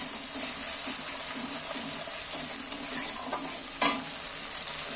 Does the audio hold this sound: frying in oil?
yes